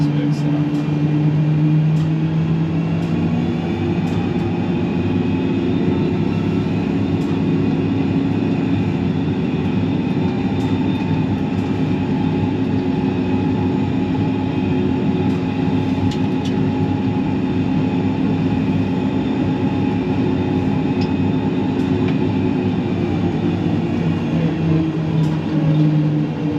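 Boeing 737-800 engines held at taxi power in a flight simulator, a loud, steady low roar with a constant whine above it that continues unbroken for the whole stretch.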